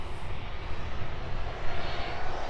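A Ryanair jet departing East Midlands Airport in the evening gives a steady, broad engine roar at moderate distance, with a continuous rushing texture throughout and no voices.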